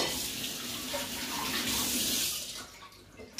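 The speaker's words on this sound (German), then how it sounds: "ich wasche mir mal eben die Finger." Fingers washed under a running kitchen tap, a steady close splashing rush of water that fades near the end, with no speech.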